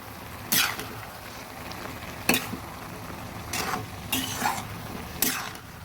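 Drained ash gourd pieces stirred in a pan, a soft low sizzle broken by several sharp scraping strokes of a spoon, close and without voices.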